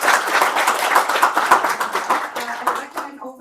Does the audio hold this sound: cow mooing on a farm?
no